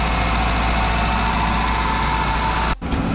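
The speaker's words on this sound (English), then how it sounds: "And at least one kick, the engine starts straight away." A Toyota Celica engine runs after a starter motor replacement, idling with a loud, steady drone before a brief dropout near the end.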